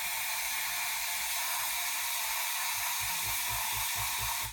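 A dental water spray rinsing etching acid off a tooth gives a continuous loud, even hiss with a steady mechanical hum beneath, and no one speaks.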